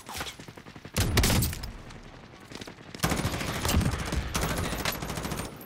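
Rapid automatic gunfire in a Call of Duty match: a short burst comes first, then a longer sustained stream of loud, closely spaced shots with a few brief gaps. No voices are heard.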